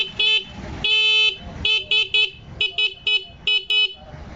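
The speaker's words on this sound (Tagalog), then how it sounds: "Tapos ito yung passing with horn" Stock horn on a Barako 175 motorcycle, sounded together with the passing light in a series of short, loud beeps with a couple of longer blasts, close to the horn.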